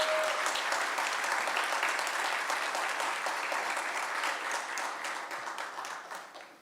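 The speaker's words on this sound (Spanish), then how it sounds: "Un aplauso a Mario Mendoza." An audience at a literary event applauds a writer, sustained clapping from a crowd that holds steady for several seconds and then slowly fades out.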